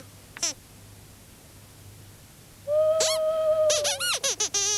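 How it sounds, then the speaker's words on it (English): A squeaky, whistling owl-like call sounds once briefly, then after a pause a longer wavering hoot followed by a rapid series of short chirpy hoots. "Anybody knows an owl hoot, and that was an owl hoot."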